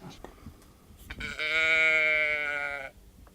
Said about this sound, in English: A lot of people say it sounds like a sheep or a cow.